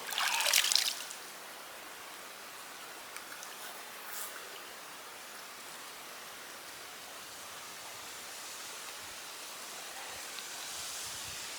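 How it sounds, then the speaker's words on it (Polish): A loud splash of cold water thrown onto the body during winter swimming by older people, with water at 22.8 degrees. The splash bursts at the start, then gives way to a faint, steady watery hiss. "Standardowo klapamy się wodą."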